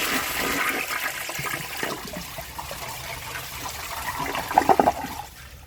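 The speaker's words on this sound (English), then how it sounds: "So let's give this a flush and see how it does on tests." A 2003 American Standard Compact toilet with its original flapper flushes in one continuous rushing, gurgling surge of water that ends in a short burst of splashes and a trickle.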